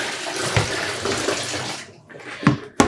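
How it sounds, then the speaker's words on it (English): Hand-dyed yarn rinsed in water, with a steady splashing, running-water wash that briefly thins out near the end before two sharp sloshes. "when you're rinsing your yarn using soak"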